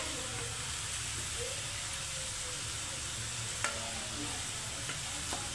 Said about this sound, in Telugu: ఇంకా కొంచెం ఎర్రగా వేగాలి